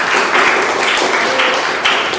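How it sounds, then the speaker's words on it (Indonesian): Children in a classroom clap together for everyone, a steady, dense patter of applause that holds evenly for a couple of seconds at close range. "Tepuk tangan untuk kita semua"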